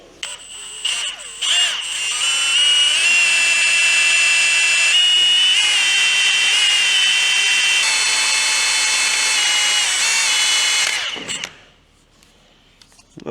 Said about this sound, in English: We can pop the bracket back off and drill our holes.